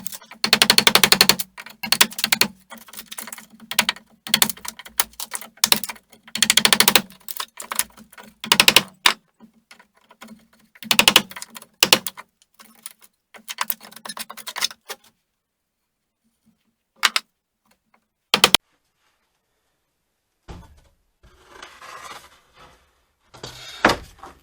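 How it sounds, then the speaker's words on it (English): Sharp, irregular tapping and scraping as a chisel cuts and flattens a wooden cross piece, dense bursts through the first half, then sparser isolated knocks and soft scraping with quiet gaps near the end. "a smaller chisel to go ahead and get in the very tight corners, and that's still on very uneven surface."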